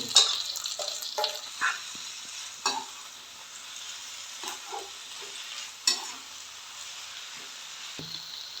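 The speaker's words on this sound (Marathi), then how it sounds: "आता मी त्याच्यामध्ये ही धुतलेली शेवग्याची पानं घालून घेते" Washed drumstick leaves tossed into a pan of cooking onion and moong dal, giving a quiet sizzle broken by scattered scraping stirs and light knocks, close by with no voices.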